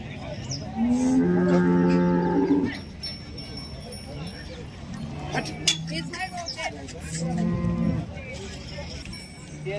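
A Khillar cow at the Sangola cattle market lets out two loud, drawn-out moos close by, one early and one near the end, amid the voices and chatter of the market.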